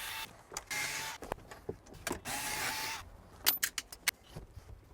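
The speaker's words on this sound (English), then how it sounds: "run these screws out" Screws being run out of a car's shift boot trim around a chrome shift knob with a power screwdriver, several short whirring bursts between clicks and small metallic taps, fairly close and quiet.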